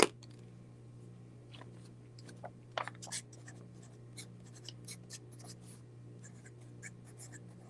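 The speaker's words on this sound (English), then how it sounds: "I'm gonna write that down." Pen scratching on paper in short strokes and scribbles, close and quiet, over a faint steady hum, with no talking.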